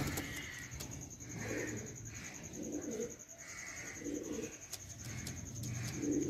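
Star Kalanka pigeons coo close by in a steady, repeating rhythm of soft throaty calls, several phrases in a row over a constant thin high-pitched background tone.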